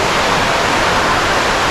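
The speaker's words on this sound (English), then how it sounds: "The water rushing past is sort of causing a vacuum and the air is moving about." Rushing water from the world's tallest indoor waterfall at Jewel Changi Airport, a loud, dense, unbroken roar of falling water heard up close with no voices.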